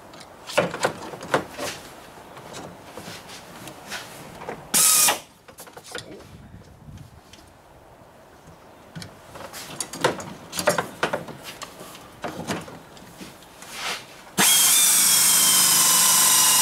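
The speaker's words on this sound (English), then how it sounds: "And we'll get this drilled out here" Power drill boring out a hole in a homemade backhoe bucket for a 110 loader, heard in several short whirring bursts and rattling mechanical clatter, ending in a loud sustained run of the drill up close.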